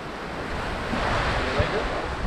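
Sea waves at Columbus Bay beach in south Trinidad, a continuous rushing surf with wind noise, one soft thump partway through.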